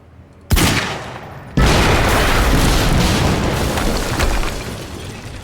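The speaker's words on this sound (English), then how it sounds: "HQ, we just heard an explosion near the harvesting perimeter" Explosions in the video game Quantum Break hit with two sudden loud booms, the second setting off a sustained roaring, crackling blast that slowly decays.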